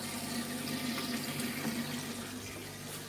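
Water runs steadily from a tap in a fish room, a faint, even hiss with a low hum underneath and no talking.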